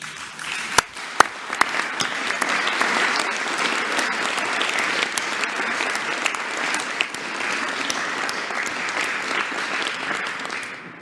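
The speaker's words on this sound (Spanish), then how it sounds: "vamos a aplaudirle a las niñas y a los niños" Sustained applause from the audience at the Mexican president's morning press conference, honouring children: a steady, dense roar of many hands clapping for about eleven seconds, with a few sharp claps popping out early on.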